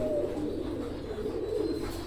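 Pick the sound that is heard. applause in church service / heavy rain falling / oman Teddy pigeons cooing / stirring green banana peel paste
oman Teddy pigeons cooing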